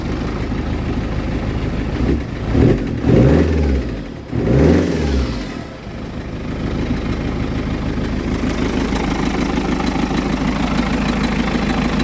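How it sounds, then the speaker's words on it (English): A turbo diesel Holden Nova engine with upgraded injectors idles with a rough clatter, then revs up in two strong bursts before settling back to a steady idle. "Give it some revs."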